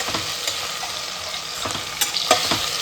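Onions frying in a pan for vegetable pulao, turning golden brown, with a steady close sizzle broken by a few scrapes and stirs of a spoon, and no voices.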